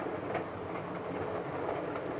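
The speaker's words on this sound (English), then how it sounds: "the train is approaching a station" A passenger train with dining and lunch cars runs along the rails, giving a steady, even rumble with faint rhythmic clatter that stays constant throughout, close by and with no voices.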